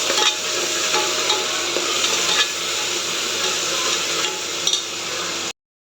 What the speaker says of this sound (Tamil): நல்லா பச்சை வாசனை போகிற வரைக்கும் வதக்கிடுங்க.